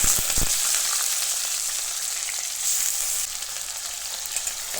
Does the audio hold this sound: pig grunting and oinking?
no